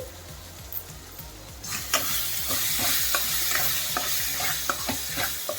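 Prawn curry with softened tomatoes being stirred in oil floating up in the pan, starting with a low simmer and then turning into a rhythmic series of spoon scrapes and clacks over a bright, steady sizzle.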